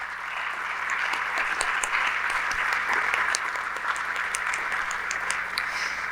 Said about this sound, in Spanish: un fuerte aplauso a ellos